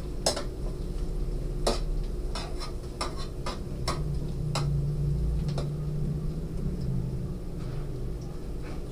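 Metal utensil clinking and scraping in a pan while sautéing ingredients for sinigang na bangus sa miso, with irregular sharp ticks over a steady low background hum and faint sizzle.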